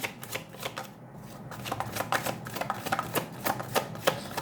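Tarot cards being shuffled close up, a rapid run of crisp riffling flutters and slaps repeating steadily for several seconds without any voice.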